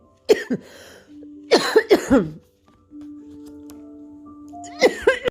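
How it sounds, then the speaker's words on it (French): A fit of harsh coughs in short bursts, close and fairly loud, with quiet pauses and a faint steady hum between them. "J'ai eu une petite quinte de toux"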